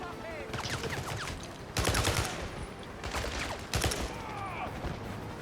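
AK rifle fire in the James Bond 007: Blood Stone video game, loud rattling bursts of automatic shots in several volleys with brief gaps between them, mixed with game sound effects.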